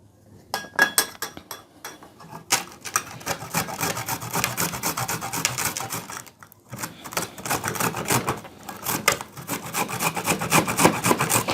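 An onion is grated by hand for onion juice, rapid rough rasping strokes close up, in bursts with a short pause midway, no talk.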